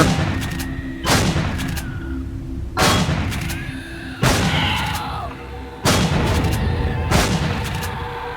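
Gunfire and explosions in the Empyrion survival video game: five heavy booming blasts spaced about a second and a half apart, each with a sharp crack and a ringing decaying tail, loud and close.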